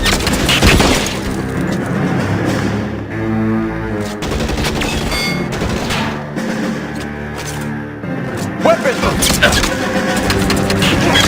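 Gunfire erupts in a police shootout in L.A. Noire on Nintendo Switch: loud, repeated sharp shot bursts and booms with engine-like rumble, mixed with voices.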